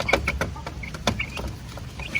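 Upgraded native chickens on a farm in Glan, Sarangani cluck in short repeated bursts close by, with several birds overlapping.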